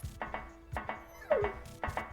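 Repeated short dog barks in the video game Zero Time Dilemma, several sharp yips and woofs in an uneven rhythm, fairly close and moderately loud with no talk over them.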